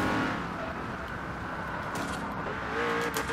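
A race car engine in Forza Horizon 2 holds a steady, loud roar with a slight rise near the end and faint tire noise, with no talking.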